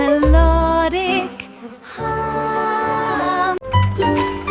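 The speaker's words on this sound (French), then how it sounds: "les abeilles bourdonnent et chantent toute la journée" A gentle, melodic buzzing hum of bees sung in a children's song, sustained and tonal throughout with musical backing, loud and close with a short break near the end.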